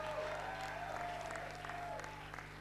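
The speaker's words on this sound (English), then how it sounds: "You should be really applauding them. Clap more." A graduation audience applauds in a hall, dense steady clapping throughout at moderate level with a faint crowd murmur beneath.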